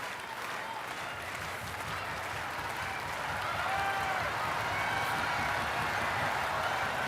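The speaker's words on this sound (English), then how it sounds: "You hear the crowd buzzing, cheering on the sweepers." A large crowd at a curling match murmurs and cheers steadily throughout as the sweepers work a draw shot, a dense, continuous roar at moderate distance that swells slightly toward the end.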